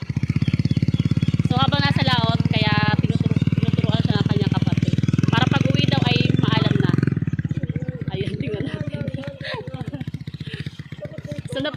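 A motorcycle engine idles and revs unevenly during a beginner's first riding practice, a low chugging drone held under near, continuous talking from people close by.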